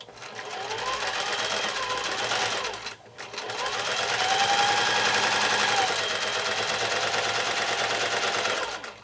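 A sewing machine stitches pieces of a Broken Dishes quilt block, running in a steady, close whirring drone that stops briefly and then resumes at the same pace.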